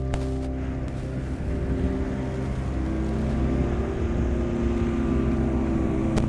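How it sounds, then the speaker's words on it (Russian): Lada Niva fitted with a 122 hp Vesta engine grinds off-road in low gear, a steady droning engine note under load that builds slightly, with no talk over it. "теперь уже вторая пониженная у всех, можно добавлять газа сколько хочешь"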